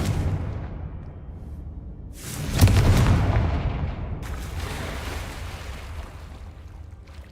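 A Confringo fire spell bursts in Hogwarts Legacy, a deep boom with a crackling, rumbling tail that fades over several seconds, followed by a softer second whoosh against low background ambience.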